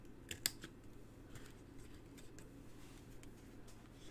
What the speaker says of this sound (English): cut away the score line.